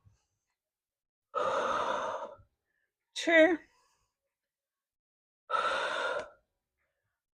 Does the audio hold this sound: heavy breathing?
yes